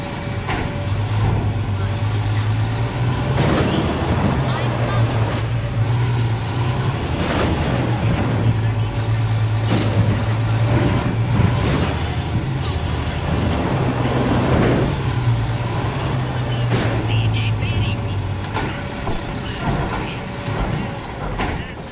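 Vehicle engine in Ghost Recon Wildlands droning steadily through the whole stretch, with a low rumble and periodic shifts in pitch as the car is driven, under in-game voices talking.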